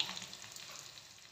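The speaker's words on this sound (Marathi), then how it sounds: "व्यवस्थित त्याला तळू द्यायचं आहे लसणाला, नाही तर कच्चा फ्लेवर येतो आपल्या चटणीमध्ये" Crushed garlic and curry leaves fry in oil with a faint, steady sizzle, heard briefly and alone with no talking.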